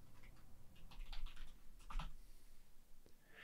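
Typing on a computer keyboard to enter a prompt into an AI text generator, a steady run of quick, close key clicks with brief pauses and no talking.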